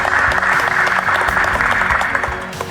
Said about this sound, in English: If we could get a round of applause for them.